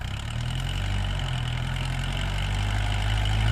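Four-cylinder Kubota M6040 or MU4902 tractor engine running at a steady idle-like rumble, loud and close, a continuous low throbbing drone without talk.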